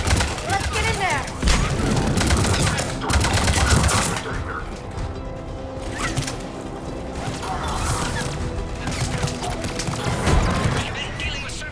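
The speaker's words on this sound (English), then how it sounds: "The checkpoint is under fire!" Gunfire rattles through a fight at a checkpoint in Mass Effect 3, with dense bursts of shots and booms stacked under voices and game noise, loud and continuous throughout.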